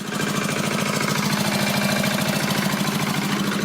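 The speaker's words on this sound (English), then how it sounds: "Lovely diesel tractor going by." A diesel tractor rumbles by, with a steady, loud, knocking engine throb and a broad roar that stays constant throughout.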